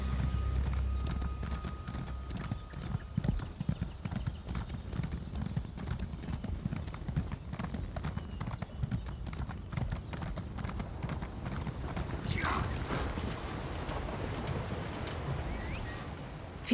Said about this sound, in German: jetzt können wir erstmal wieder ein bisschen reiten